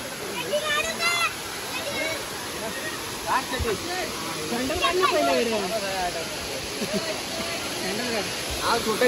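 A waterfall at Yeur in Thane gives a continuous broadband rush of falling water throughout, with several people talking and calling over it.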